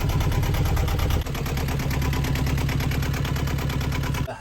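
Boat diesel engine cranking over and catching, then running with a fast, steady knocking chug that cuts off near the end, loud and close.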